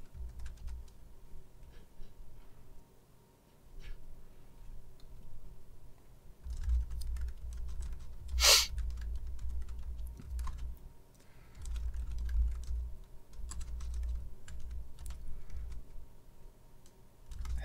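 Steady typing on a computer keyboard during coding work, a close run of light irregular key clicks with one sharper clack midway, no voices.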